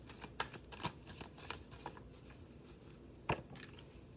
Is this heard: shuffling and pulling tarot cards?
yes